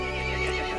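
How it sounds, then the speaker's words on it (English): A horse in the video game Resident Evil Village lets out a loud, close whinny that fills the whole brief moment, a strained, quavering neigh with no talking over it. "The horse grew angry and summoned the other monsters."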